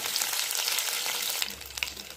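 Mustard seeds and curry leaves sizzle in hot oil, a loud close crackling hiss that thins slightly partway through, with a few sharp pops.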